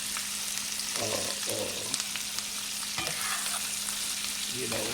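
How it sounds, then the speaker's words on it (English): Sausages sauté in a pan with a steady, close sizzle, broken by a few stirring scrapes and short bursts of louder crackling, with no talking. "you're just gonna let these cook till they like saute a little bit"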